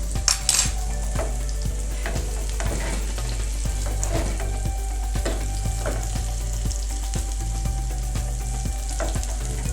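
A bread omelette sandwich with egg fries in a pan, giving a steady, close sizzle broken by light scrapes and taps of a spatula pressing it down, with no talk.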